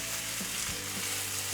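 Cherry tomatoes frying in a hot pan give off a steady, close sizzle with soft crackles, and a brief stir or scrape shows up partway through, with no voices.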